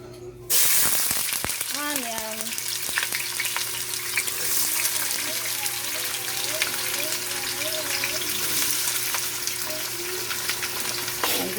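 Chopped onion sizzling in hot oil in a stew pot, a steady close frying hiss running for the whole stretch, with faint clatter and tones from the kitchen around it.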